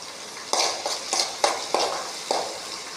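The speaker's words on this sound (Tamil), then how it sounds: "இப்போது நல்லா வதக்கிக்கலாம்." Vegetable masala being sautéed in a pan gives a steady sizzle, with a spoon stirring in repeated scraping strokes about every third of a second, close and alone.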